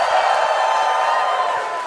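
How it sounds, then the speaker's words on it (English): A live audience at a PAX East gameplay reveal for Mafia: The Old Country erupts in loud, sustained cheering and whooping, a bright roar filling the hall. "when you see or hear something you like, I need you cheering"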